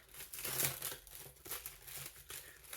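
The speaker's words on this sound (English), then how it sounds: "we'll unwrap this digital real quick" Plastic wrapping being peeled off a Blu-ray digital code insert, heard up close as soft crinkling and tearing rustles in uneven bursts, no voices.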